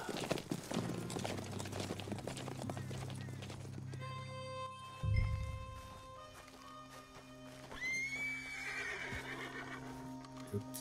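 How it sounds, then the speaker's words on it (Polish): Horse hooves clip-clop in the Red Dead Online video game, mixed with whinnies, a thudding impact and background game music, with some voice sounds. "To chyba nie nasz koń."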